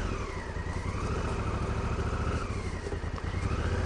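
Honda Africa Twin CRF1000L adventure motorcycle (2016) riding a woods trail, a steady mid-pitched engine drone with rising and falling revs and wind rush, continuous and fairly close.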